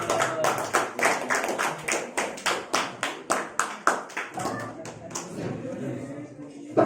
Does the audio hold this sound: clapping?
yes